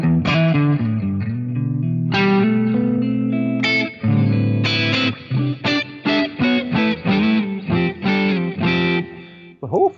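Electric guitar through a Line 6 Helix modelling a Matchless amp with chamber reverb, loud and upfront: distorted sustained chords ring out, then a run of sharp, choppy strummed stabs with short reverb tails.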